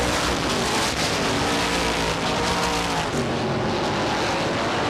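Race cars roaring around the Star Speedway oval in a loud, continuous engine drone with shifting pitch as the field passes close by.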